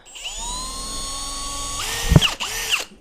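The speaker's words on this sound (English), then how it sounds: "We need to drill a hole in these dividers here and here" A high-pitched power drill whines steadily, then bites into plastic aquarium dividers with a brief grinding burst, followed by short revving spurts.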